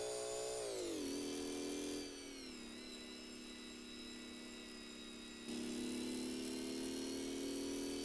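A motorcycle engine in the video game GearBlocks revs and holds a high whine, dips in pitch and level for a few seconds, then climbs back up, loud and continuous.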